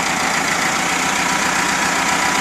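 A warmed-up Volkswagen Bus with a dual-port 1641 engine idles steadily, a loud, continuous close-up rumble with an even, unbroken drone throughout.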